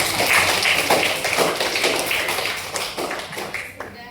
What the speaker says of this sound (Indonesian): Beri tepuk tangan untuk Mike.